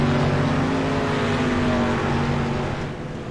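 Race cars lapping a 3/4 mile oval in a sim racing video game, a steady loud engine drone holding throughout before easing slightly near the end, no voices over it.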